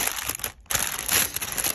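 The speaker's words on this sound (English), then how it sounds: "Sorry for the crinkling." Plastic packaging crinkles close up as a holiday swap gift is unwrapped, a short bout of crackling and rustling with a brief gap in the middle, no voices.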